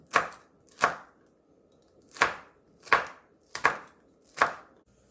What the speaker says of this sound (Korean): 홍고추두개 길쭉하게 썰어줍니다